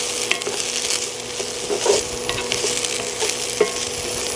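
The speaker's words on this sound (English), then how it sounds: "I'm gonna add our potatoes. Make sure we get them all. And we're gonna fry these for about 5 minutes." Potatoes fry in a hot pan for a breakfast hash with an even sizzle. Scattered scrapes and light clinks of the utensil against the pan come through close by, and no one speaks.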